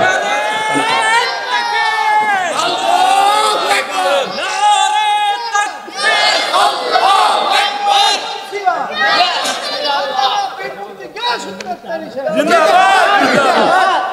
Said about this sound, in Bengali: একটা স্লোগান দেন তো